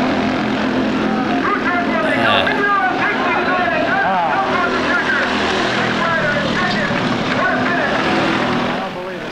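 A go-kart engine drones loudly and continuously through the final turn of a race, a steady high buzzing roar that holds up close the whole time.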